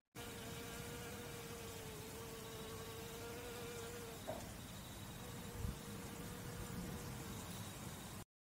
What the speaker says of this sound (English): This rapid wing movement allows honeybees to generate the lift necessary for their sustained flight